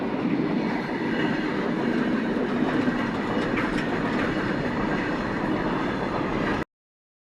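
A train rolls past the Deodar railway crossing at close range with a steady clickety-clack of wheels on rail and a rumble that stays loud, then the sound cuts off abruptly near the end.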